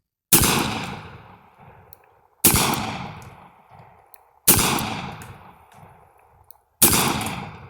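Four loud, close gunshots from a Smith & Wesson Governor revolver firing .45 Colt rounds at a target, evenly spaced about two seconds apart, each a sharp crack with a ringing decay.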